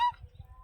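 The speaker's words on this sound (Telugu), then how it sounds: "మంచి పక్షులు అరుస్తున్నాయి ఫ్రెండ్స్." A single short honk-like bird call rings out at the start of the clip over faint low rumble in a village setting, quiet and fairly distant.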